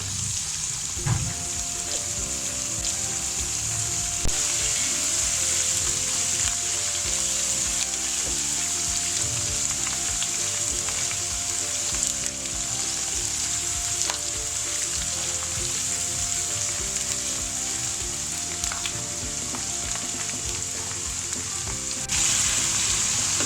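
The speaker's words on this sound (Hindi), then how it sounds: "तेज़ आंच पे इसको सौते करना है" Onions sauté over high heat in a karahi for chilli chicken gravy, a loud, constant close sizzle with occasional scrapes and stirring knocks running steadily throughout.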